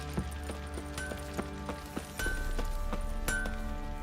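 Horse hooves clip-clopping in The Witcher 3 video game, a steady, close rhythm of hoofbeats that continues throughout, with a louder patch of game ambience in the second half.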